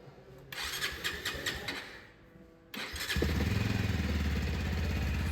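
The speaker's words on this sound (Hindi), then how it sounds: "सो बाइक को स्टार्ट करते हैं।" A 2024 Bajaj Avenger 160 Street motorcycle engine cranks and sputters, pauses briefly, then catches and settles into a steady, loud idle rumble.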